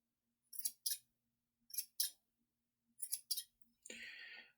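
Scissors trimming a yarn pom-pom: three close pairs of crisp snipping cuts in a quiet room, followed by a brief rustle of handled yarn.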